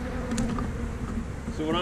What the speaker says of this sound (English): I'm gonna leave them bees right there.